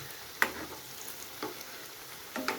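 Potato and egg kebabs frying gently on a low flame, with a soft, quiet sizzle and a few sharp pops or utensil taps spaced about a second apart, close by and free of talk.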